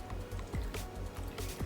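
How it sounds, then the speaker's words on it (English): Homemade buttermilk of milk and apple cider vinegar poured over raw chicken wings, a soft liquid splash and drip over a steady low hum, close and fairly quiet. "And then we will pour it over our chicken"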